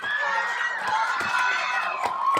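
Campers at a Michigan RV caravan outing cheer on a boat race, a lively mix of shouting and excited voices rising and falling, moderately close with occasional sharper yells.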